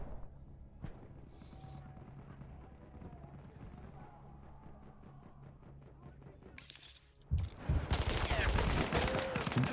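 Teammates firing in Battlefield 1, heavy gunshots breaking out loudly near the end after a quieter stretch of faint game noise and muffled talk.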